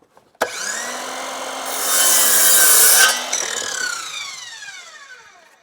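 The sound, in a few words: sawing wood to cut it square on the end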